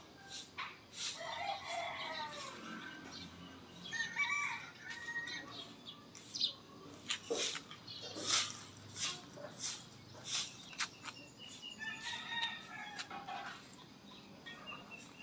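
Rhode Island Red chickens and roosters on a farm crow repeatedly, several loud, drawn-out calls spread across the stretch with clucking and wing flaps in between, some near and some farther off.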